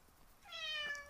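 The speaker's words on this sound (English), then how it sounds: "Pardon the cat." A single cat meows once indoors, a short rising-and-falling cry at moderate loudness with no other sounds around it.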